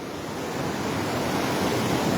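Large volume of river water rushing through open barrage gates in flood, a loud, continuous broadband roar that swells slightly, with no voices.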